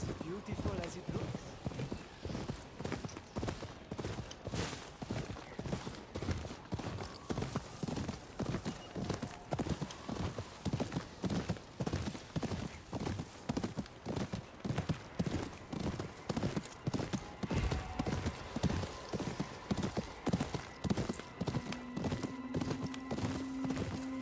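Horse hooves clip-clop steadily in the video game Ghost of Yotei, an even, continuous walking rhythm of hoof beats throughout, with someone talking over them and game music faintly underneath.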